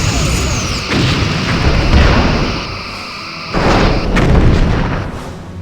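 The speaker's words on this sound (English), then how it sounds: "So we can finish them off with phasers." Loud, sustained phaser beam fire from the starship combat game Star Trek: Bridge Commander, two long rumbling bursts with a brief dip between them, with no voices.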